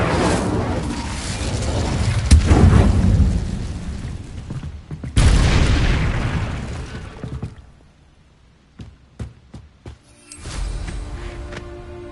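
An Incendio fire spell cast in Hogwarts Legacy erupts in loud roaring bursts of flame, one after another, broken by sharp clicks and impacts before a final whoosh flares up.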